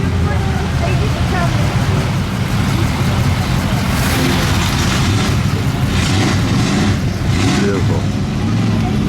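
A classic Auburn car's engine rumbles steadily at a concours show, a loud, continuous low drone with rough pulsing, joined by a few brief bursts of brighter noise partway through.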